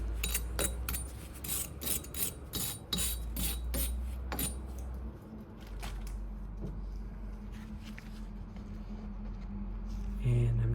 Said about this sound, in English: maybe you just want to give a little wire brushing to the area here